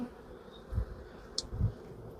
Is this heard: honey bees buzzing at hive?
yes